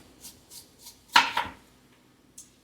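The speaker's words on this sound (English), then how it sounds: "We're going to finely chop our onion" A knife chops an onion on a cutting board, with three light, evenly spaced taps followed by two louder, sharper cuts and one last soft tap, all close and with no talking.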